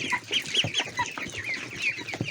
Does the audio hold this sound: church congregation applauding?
no